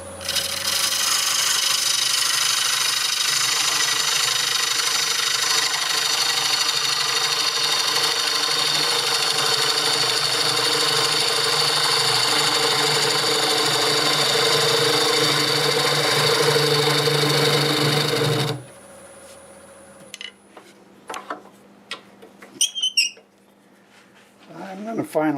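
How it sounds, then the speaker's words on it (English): Half-inch bowl gouge cutting a walnut blank on a lathe, a continuous loud scraping hiss over the motor's hum for about eighteen seconds, then the cut stops, leaving faint clicks and handling noises. "Using a 1/2-inch bowl gouge."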